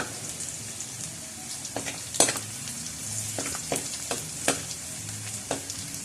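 Garlic sizzles steadily in hot oil in a pan, cooked for a Filipino pork pochero, with a constant close frying hiss broken by several sharp taps and scrapes of a utensil stirring.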